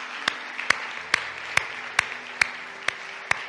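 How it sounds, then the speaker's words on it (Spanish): A church congregation claps in unison, eight sharp, evenly spaced claps at a brisk steady beat over a faint background hum. "Dê um aplauso a Cristo uma vez mais."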